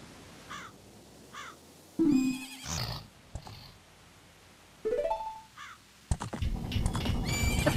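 Epona, the horse in the video game Zelda: Majora's Mask, gives several loud whinnies and snorts amid game effects, with bird caws and a clip-clop of hooves between the neighs.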